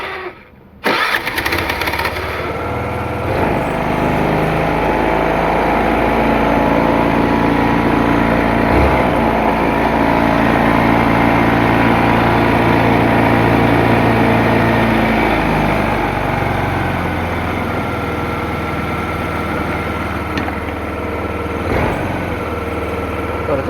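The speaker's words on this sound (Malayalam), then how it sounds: "നമ്മൾ വണ്ടി സ്റ്റാർട്ടാക്കാനായിട്ട് പോകണേ. ഈ ഓണാക്കി" A scooter engine, freshly rebuilt after bore work, cranks and catches, then settles into a steady, loud idle that runs close and continuous, with no talk over it.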